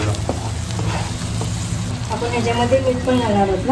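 Stuffing masala for stuffed pomfret sizzles in a pan, a steady close frying hiss. Partway through a person starts talking over it.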